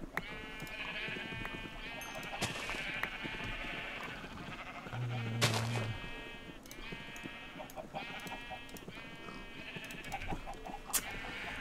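Sheep in Minecraft bleat again and again in short, regular calls. Each bleat is clear and fairly close, with only a faint game backdrop between them.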